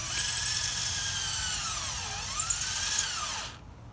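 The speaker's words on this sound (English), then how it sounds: "And sometimes the drill runs out of the juice." A cordless drill whirs steadily at high pitch, its motor dipping and rising in speed as it bores, then stops abruptly near the end.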